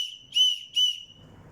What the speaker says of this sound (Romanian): și fluier, care fluieră destul de tare